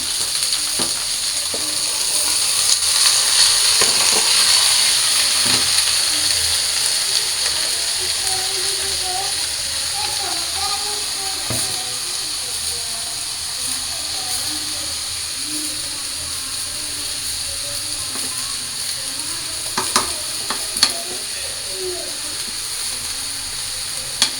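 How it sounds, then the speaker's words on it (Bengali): Bottle gourd simmering in lentils in a pot gives off a constant soft hiss and bubbling, with occasional faint clicks and knocks over it. "এই যে ডালের মধ্যে লাউটা আমার প্রায় সিদ্ধ হয়ে গেছে"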